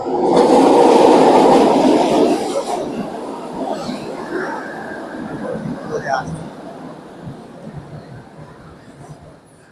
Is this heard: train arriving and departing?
yes